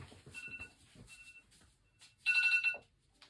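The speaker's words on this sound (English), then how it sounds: "There's my alarm in the background" A phone alarm chimes faintly in the background with short repeated tones, then a louder burst of ringing near the end.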